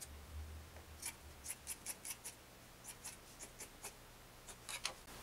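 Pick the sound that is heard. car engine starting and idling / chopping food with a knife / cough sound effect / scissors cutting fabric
scissors cutting fabric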